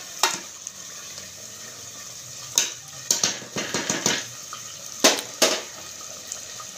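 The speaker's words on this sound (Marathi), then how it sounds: "थोडा वेळ तेलामध्ये मस्त फ्राय होऊ देऊ चिकन" Chicken frying in oil in a pot during home cooking, heard as a low soft sizzle. Several sharp clanks and scrapes of a utensil against the pot come in clusters over the top.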